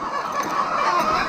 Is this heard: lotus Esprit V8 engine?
no